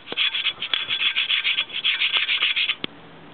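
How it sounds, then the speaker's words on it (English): Steady, rhythmic scraping of metal on a clutch plate from a 1934 Morris 10 Convertible, close up and loud, with short repeated strokes and a sharp tap near the end. "Bit of scraping and a light clean and we'll be alright on it."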